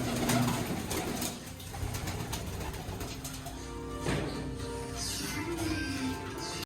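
Pigeons coo near a spot where grain has been scattered for them to eat, a soft steady murmur of cooing that continues throughout with some background bustle and faint sounds of movement.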